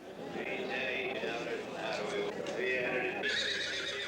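Horses whinny and neigh repeatedly over a steady crowd murmur of people talking nearby at the New Holland, Pennsylvania horse auction.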